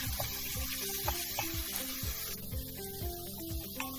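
Onions and peppers sizzling and frying in a pot, a steady crackling hiss with occasional stirring clinks, close by.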